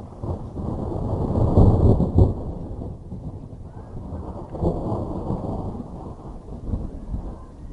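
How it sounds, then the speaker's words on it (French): Deep rolling thunder from a weak summer thunderstorm in Pernois, France, rumbles on and off, swelling loudly early then fading into a softer, distant grumble, with rain and wind hiss beneath. "vous en entendez tonner là"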